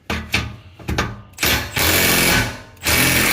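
A power tool with a socket undoing the exhaust bolts on a Ford Explorer ST fitted with a 3-inch exhaust, heard as several short whirring bursts that give way to longer, louder sustained runs, up close.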